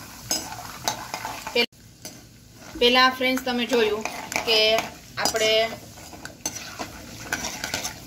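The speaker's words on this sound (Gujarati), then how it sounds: "પહેલાં આપણે બી તળી લેશું." Peanuts fry in hot oil in a wok, a steady sizzle with stirring scrapes and clinks of a utensil, while a voice talks through the middle part.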